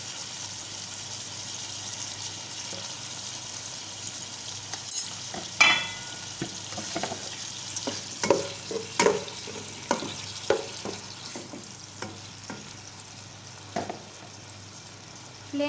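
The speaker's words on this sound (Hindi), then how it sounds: "थोड़ी देर इसको भूनेंगे हम, 4 से 5 मिनट इसको भूनेंगे अच्छी तरह।" Garlic-ginger paste sizzles and crackles in hot oil, with intermittent scraping and stirring sounds from a spoon in the pan, fairly quiet.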